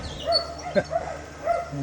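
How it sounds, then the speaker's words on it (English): Several dogs barking somewhere down the hill from a potato garden, a few separate yelping barks in a scattered rhythm, moderately distant and not very loud against the open outdoor background. "somebody's dogs going a bit mad down there"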